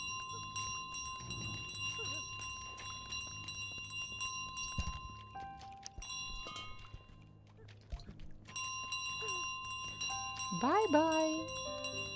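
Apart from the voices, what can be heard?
bell carried by the goose, from video game Untitled Goose Game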